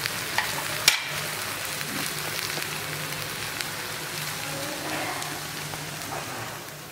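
A besan pola, a gram flour pancake, fries in oil in a pan with a steady, close hiss and sizzle. A single sharp click sounds near the start.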